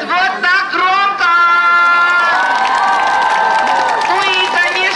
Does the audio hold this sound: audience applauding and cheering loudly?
yes